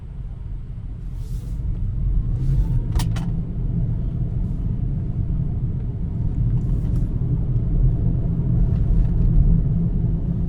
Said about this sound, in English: but for now, let's go for a drive.